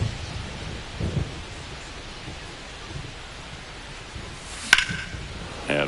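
Rain and thunder in the MLB The Show 25 baseball video game, with steady rain hiss throughout, a low rumble near the start and a sharp thunder crack near the end.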